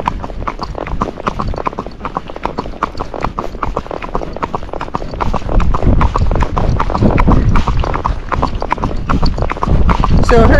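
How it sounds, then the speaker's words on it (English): Tennessee Walking Horse hooves strike a paved road in a quick, steady clip-clop rhythm, close and continuous, growing slightly louder in the second half. "So her gait will sound different on this road versus a pacey horse or a horse that just gaits"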